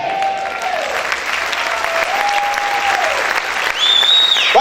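Loud, sustained applause from a church congregation fills the space, steady throughout with a few whistles or sung tones riding over the dense clapping.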